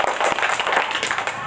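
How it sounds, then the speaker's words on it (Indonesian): A group of children clap their hands together in a dense, continuous burst of applause at a storytelling session, steady and fairly loud throughout. "Oke, tepuk tangan buat semuanya."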